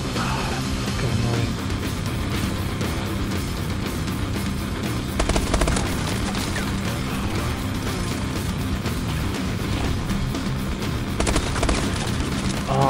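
Continuous gunfire from the video game Call of Duty: Advanced Warfare, dense rattling bursts and shots layered over a loud, busy game soundscape throughout, with no pauses.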